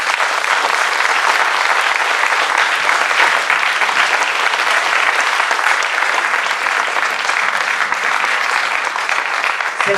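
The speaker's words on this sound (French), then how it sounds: "Merci de les applaudir très fort." A theatre crowd at an improv comedy festival claps hard and continuously, a dense, loud, even roar of many hands that holds steady for the whole stretch with no talking.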